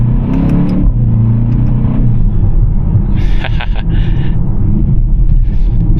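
A BMW 35i accelerating, a loud steady engine roar that climbs in pitch through the gears, with a brief higher whine partway through, close and continuous.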